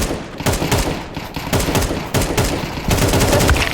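Rapid automatic rifle bursts in a Counter-Strike match, several loud close-range sprays of gunfire with short gaps between bursts, crisp and dense throughout with no talking.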